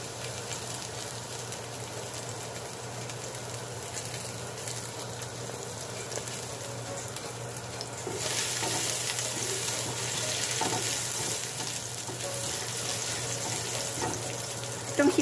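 Garlic and onion sizzle continuously in a pan while pork menudo is cooked, a soft, steady hiss that grows louder and brighter partway through.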